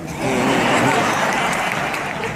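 Steady clapping from an audience at a Dr. Martin Luther King Jr. Day celebration, with some laughter mixed in, filling the whole moment at a fairly loud level.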